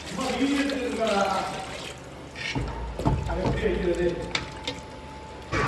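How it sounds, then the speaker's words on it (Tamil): Water, including meat-boiling stock, is poured into a pot of mutton curry on the stove, giving splashy, gurgling pours over the middle of the stretch while someone talks. "குழம்புக்கு தேவையான தண்ணி ஊற்றிக்கலாம்"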